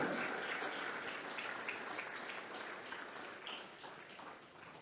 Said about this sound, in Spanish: damos un fuerte aplauso al Señor, agradeciendo que tenemos un Dios vivo